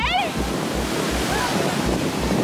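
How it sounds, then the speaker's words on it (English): Strong ocean waves crash on a beach, making a loud, continuous roar of surf and rushing water close to the microphone. Wind buffets the mic in regular thumps, and faint voices are mixed into the noise. "those are some strong waves"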